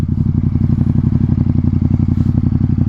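A Ducati XDiavel with a Termignoni exhaust runs steadily close by, a deep rumbling engine note with rapid pulsing beats that hold constant and loud throughout.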